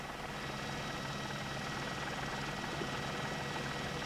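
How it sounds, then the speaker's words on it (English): A police helicopter overhead, a steady, faint rotor drone that holds evenly throughout with no voices or other sounds. "from the air, the police helicopter was able to follow him"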